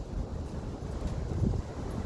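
Cold wind blowing through an abandoned fort, a low, steady rumble with gusty buffeting on the microphone and no voices.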